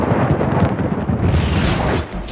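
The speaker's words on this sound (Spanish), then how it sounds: "Parece que un rayo golpeó el tablero de metal." Deafening thunderclap from lightning striking a metal sign at a restaurant during a violent storm, a loud broad rumble that fills the whole stretch before easing slightly at the end.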